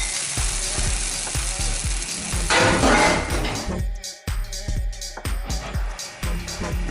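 Oatmeal pancakes sizzle in a frying pan, a dense crackling hiss with rhythmic clinks and taps from utensils repeating throughout.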